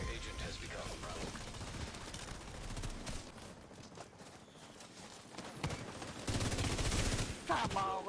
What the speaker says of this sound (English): There's all four shotguns on my ass right now.